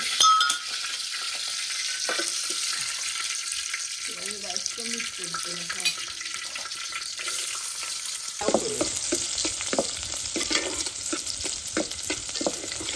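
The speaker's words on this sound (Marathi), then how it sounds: "थोडा कांदा आणि कढीपत्ता टाकून घेतलाय" Onion and curry leaves frying in a pan over a wood-fired stove, a steady close sizzle with a spoon stirring and scraping through it, a faint voice briefly in the background.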